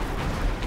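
A grenade detonates in the sci-fi shooter Destiny 2, a brief, loud, dense blast that fills the moment with rumbling noise.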